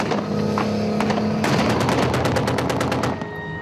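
Soldiers test-fire weapons mounted on military vehicles in wartime Sloviansk. Loud automatic gunfire hammers out in rapid, evenly spaced shots and ends in one sustained burst, with no voices.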